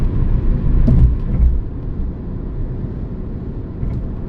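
A steady low road rumble fills the cabin of a moving car, with a couple of brief bumps early on and no talking.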